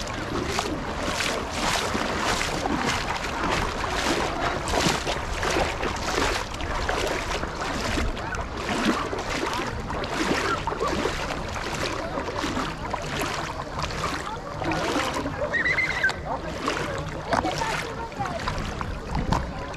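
Crowded tour boats anchored off a beach at Bademli, Dikili, on the Turkish sea, a continuous low wash of engines, water and wind, moderately loud and fairly steady throughout.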